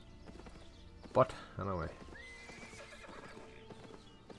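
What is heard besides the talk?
horse hooves and neighing, from video game Albion Online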